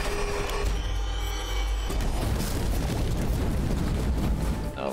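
Dense, continuous roaring bursts of explosions from a fire-breath attack in the game Have a Nice Death, loud and close, with a deep rumbling low end and crackling texture throughout, without a pause.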